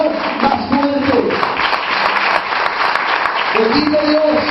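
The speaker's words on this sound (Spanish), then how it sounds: "Dale ese aplauso para el Señor, más fuerte." Congregation applauding the Lord during a Spanish-language church service, steady dense clapping throughout with voices and speech sounds rising over it at the start and end.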